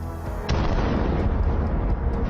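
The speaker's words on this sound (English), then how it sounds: "The APC exploded with great force" A Russian APC struck by a drone explodes in a sudden loud blast, then a dense roaring rumble and crackle carry on unbroken afterward.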